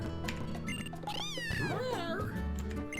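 Cry of Litten, the fire cat Pokémon, in the video game Pokémon SuperNova Sun, a short rising-and-falling electronic meow heard once amid game music and background talk.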